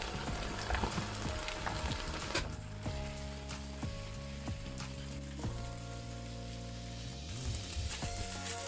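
Chicken meatball bread filling thickened with flour sizzles steadily as it fries dry in a pan, with continuous crackle under background music.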